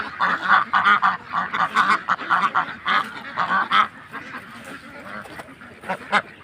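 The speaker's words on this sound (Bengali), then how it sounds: "এখানে শুধু হাঁস লালন পালন করা হয়। শুধু হাঁস আর হাঁস চতুর্মুখী।" Ducks at a Belgian duck farm quack and honk in a noisy, overlapping flock, loud and close, with rapid repeated calls that thin out toward the end.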